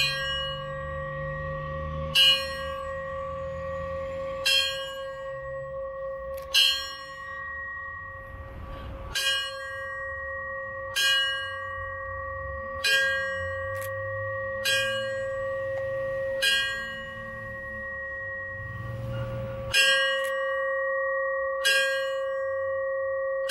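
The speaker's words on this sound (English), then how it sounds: "Phyllis Harrell will honor those with one single bell tone" A ceremonial bell at a 9-11 remembrance ceremony strikes repeatedly at a slow, even pace, each clear metallic ring sustaining with a long hum between strikes, with faint room noise underneath.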